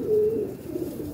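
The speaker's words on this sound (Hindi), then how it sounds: "ये भी कबूतर जो है जोड़े डालने वाले कबूतर हैं माशाल्लाह।" Soft, low cooing from Indian pairing pigeons, one drawn-out coo near the start followed by quieter murmuring, close by and without speech.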